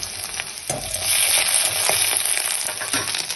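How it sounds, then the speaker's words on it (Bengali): Ginger paste fries in hot oil with chopped onion and dried red chilies, giving a steady, loud crackling sizzle broken by occasional stirring scrapes throughout. "এবার আমি আদা বাটা দিয়ে দিচ্ছি।"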